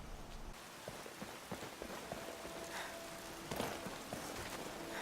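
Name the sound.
rain falling in a video game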